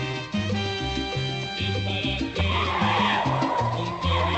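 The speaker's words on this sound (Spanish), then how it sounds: "se oye como una chilladita del carro cuando está como llegando, frenando" A car's tires squeal as it arrives and brakes, a sustained shrill skid rising over a steady musical background with rhythmic low notes, loud and close.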